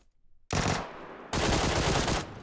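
Loud, sustained automatic gunfire in the PUBG Lite video game, coming in two long bursts after a brief quiet start, with no talking over it.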